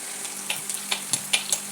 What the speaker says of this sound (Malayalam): കടുക് വറുത്തതിന് ശേഷം ആ കൊഞ്ചും കൂടെ തട്ടിയിട്ട് അതിൻ്റെ കൂടെ ഇട്ട് ഒന്നുകൂടെ ഒന്ന് മൂപ്പിക്കുന്നു